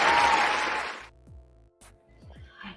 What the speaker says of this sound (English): A hand clap for Asili